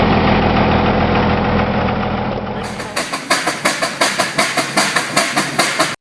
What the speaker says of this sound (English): the Case 110 horsepower steam tractor's massive boiler generates 110 horsepower